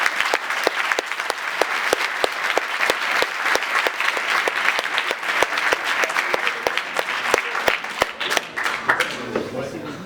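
Audience applause after a startup weekend pitch presentation in Caen, with a prominent nearby clapper's sharp regular claps over a broader round of clapping that tapers off near the end.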